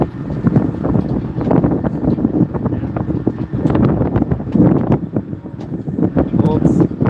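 Gusty wind buffeting the microphone on a salmon gillnetting fishing boat in Alaska, heavy low rumbling bursts with irregular thumps and knocks, close and loud, with voices talking over it.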